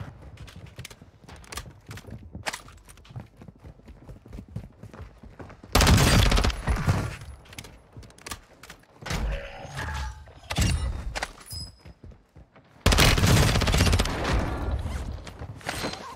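Gunfire in Warzone comes as scattered shots and rattling bursts, broken by two sudden, very loud blasts that each stop abruptly, with thuds and shattering sounds between them.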